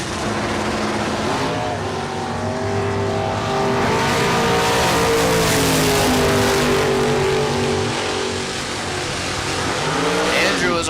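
Drag racing at Sacramento Raceway, including a 1970 Camaro, with loud engines roaring and revving down the track throughout, under constant announcer commentary.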